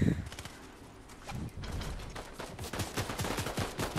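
Gunfire in the video game Fortnite Chapter 5: bursts of rapid automatic shots and single cracks, fairly close and irregular, with players' voices talking over the shooting.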